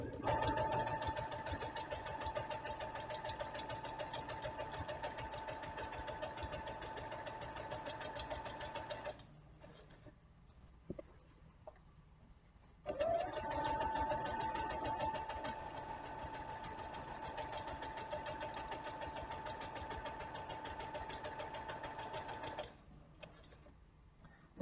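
A sewing machine stitches a fabric pillow in two long, steady runs with a pause between them, fairly quiet and close, while a person talks.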